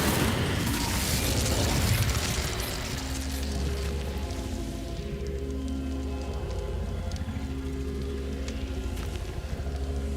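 Incendio fire spell cast in Hogwarts Legacy: a loud whooshing, crackling burst of flame at the start that fades into a low sustained rumble with steady background game tones.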